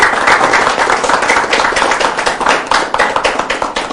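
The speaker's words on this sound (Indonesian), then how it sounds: "Kita berikan tepuk tangan yang meriah buat teman-teman." An audience claps for new founders at a business gathering, a dense burst of applause from many hands, loud and close, swelling briefly and then tapering off.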